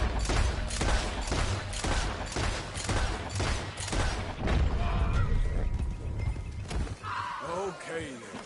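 Rapid gunfire in Red Dead Redemption 2 crackles in a dense volley of loud close shots over several seconds, mixed with horse hooves and a whinny, with voices shouting in the scene.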